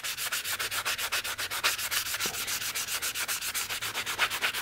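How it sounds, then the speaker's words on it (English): Hand sanding block rubbing along the sharp edges of a cast Jesmonite tray, a steady rapid back-and-forth scraping rhythm of even strokes, close and clear with no talking. "So you take the sanding block, and we're just gonna sand down"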